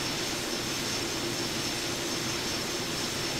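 A B-2 stealth bomber in Microsoft Flight Simulator 2020 produces a steady, unbroken jet-engine roar, a dense even drone throughout with no voices.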